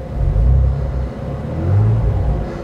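A Renault Clio V6 255 Phase 2 hatchback's engine rumbles and swells as the clutch is let out, a loud, close, deep drone that dips briefly and then climbs again with no voices over it.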